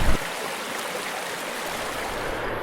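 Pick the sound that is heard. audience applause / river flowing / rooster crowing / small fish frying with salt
river flowing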